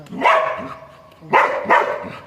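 A dog barks three times close by, loud, sharp yaps with short pauses between.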